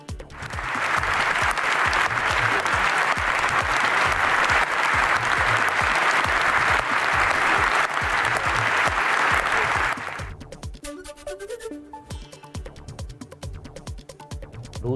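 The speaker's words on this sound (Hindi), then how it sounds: "सांसदों ने खड़े होकर जेलेंस्की के लिए तालियां" MPs in the British Parliament give Zelensky a standing ovation, a dense, loud wall of clapping that holds steady for about ten seconds before breaking off into a quieter mix of scattered sounds.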